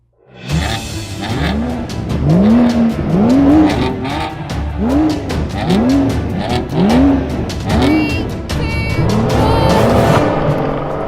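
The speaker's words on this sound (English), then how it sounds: "So I've got an M3 competition pack over there and we're going to have a drag race." BMW M760Li and M3 Competition launching side by side in a drag race start, engines revving hard with repeated rising gear-change sweeps and a brief tyre squeal, loud and close, no talk.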